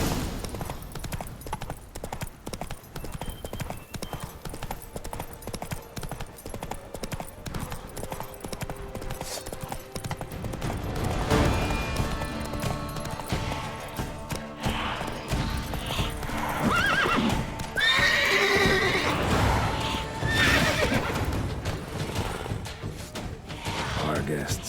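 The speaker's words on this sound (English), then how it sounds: "Run, Roach." Galloping horse hooves clip-clop steadily in The Witcher 3 video game, with whinnies and neighs breaking through as the ride grows louder and more crowded with clashing game sounds in the second half.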